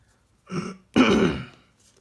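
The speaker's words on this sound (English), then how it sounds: "Again, sorry about my cough." Two short coughs close to the mic, a brief one followed by a longer, throaty hack, with silence between.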